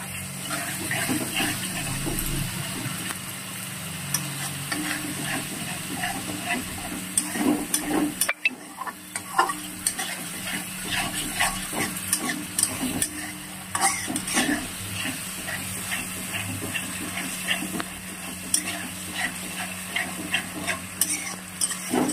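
Beaten sour yogurt hits a hot pan for a Bengali doi potol curry, sizzling steadily while a spoon scrapes and stirs through it in close, continuous strokes, with no talking.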